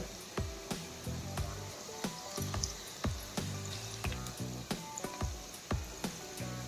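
Andhra-style onion pakoda batter frying in hot oil, heard up close as a continuous bubbling sizzle broken by frequent sharp crackles and pops, without talking.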